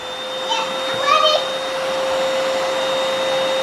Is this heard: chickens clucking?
no